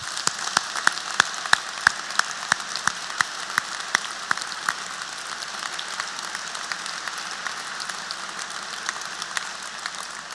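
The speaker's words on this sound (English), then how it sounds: "So I wonder if everyone here present would join me in a round of applause for those that have put it together." Graduation audience applauding in a hall, a broad wash of many hands clapping with a few sharper nearby claps standing out early on, steady and sustained throughout.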